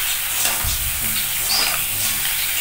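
Egg biryani ingredients frying in a pan, a steady close sizzle with brief stirring scrapes and no talking.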